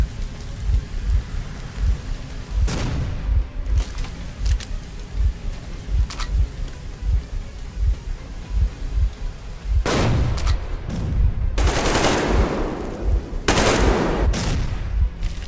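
Heavy explosions and gunfire boom through a Metro Exodus gameplay battle set in Moscow, with loud broadband blasts bursting out repeatedly over a constant rumbling, crackling din.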